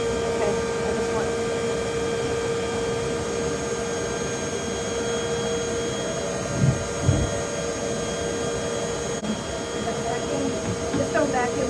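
A shop vacuum drones steadily through an Africanized bee removal from a shed floor in southern Arizona, a constant close hum with faint voices briefly rising over it.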